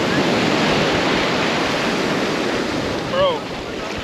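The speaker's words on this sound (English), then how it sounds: "These some waves, Devon." Ocean surf breaks and washes steadily at Isla Verde Beach in San Juan, Puerto Rico, a loud, close, continuous roar mixed with heavy wind buffeting on the microphone and a brief faint voice near the end.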